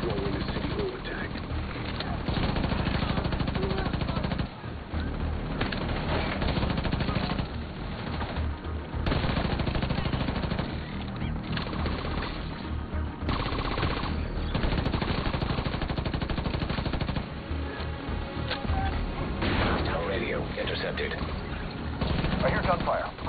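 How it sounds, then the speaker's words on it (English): Gunfire in The Division 2 during a city hall area assault, dense and continuous bursts of shots layered with heavy game action noise and effects, loud throughout with brief dips. "I hear gunfire."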